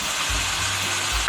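Chopped tomatoes hit a hot pan of bhindi masala and sizzle steadily, a close, continuous frying hiss with a few low bumps from the pan.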